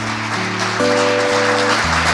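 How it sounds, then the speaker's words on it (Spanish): Applause in a church service, steady clapping under sustained organ or keyboard chords that shift pitch, loud and continuous for a couple of seconds. "Vamos a darle un aplauso a ese Señor"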